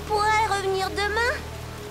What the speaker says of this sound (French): Il pleut de plus en plus fort, Apple Bloom.